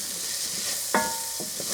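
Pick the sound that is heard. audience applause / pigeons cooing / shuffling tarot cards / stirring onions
stirring onions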